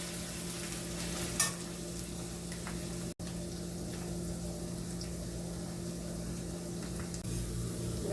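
Ridge gourd frying in a pan makes a faint, steady sizzle with a low continuous hum, with a brief clatter and a short dropout partway through.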